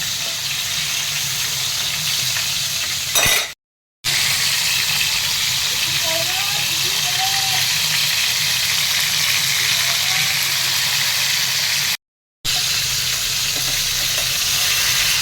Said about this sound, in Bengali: এখন মাছগুলিকে ভেজে নিচ্ছি